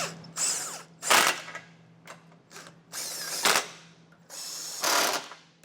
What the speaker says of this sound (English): Now I'm using a 1/2-inch impact.